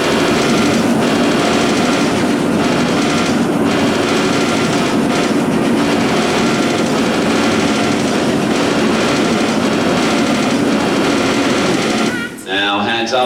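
Turret guns on a large Memphis Belle bomber model fire blanks at a live movie-magic show, a loud, dense rapid rattle of bursts over a continuous mechanical drone, cutting off near the end.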